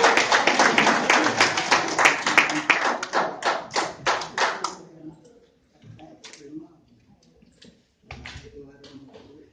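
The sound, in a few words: round of applause for Margie at birthday party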